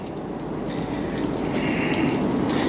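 V/Line Sprinter train standing at a platform, giving off a steady rumbling engine idle with faint hissing and clanks, constant and fairly close.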